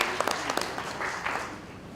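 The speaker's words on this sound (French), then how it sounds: "Je vous demande vraiment de l'applaudir pour ce calcul." Audience applause at an economic debate: a dense burst of many hands clapping that fades gradually over two seconds, with no voices over it.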